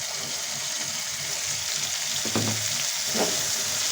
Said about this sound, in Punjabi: ਨਾਲੇ ਮਟਰ ਆਪਣੇ ਫਰਾਈ ਹੋ ਜਾਣਗੇ ਨਾਲੇ ਟਮਾਟਰ ਹੋਰ ਪੱਕ ਜਾਏਗਾ